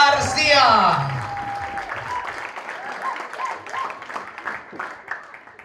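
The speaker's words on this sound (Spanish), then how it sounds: "Fuerte los aplausos para la quinceañera Emily Sendejas García" Audience applause and cheering for a quinceañera celebration, with loud voices and shouts over the clapping at first, then steady clapping continuing at a moderate level with some voices mixed in.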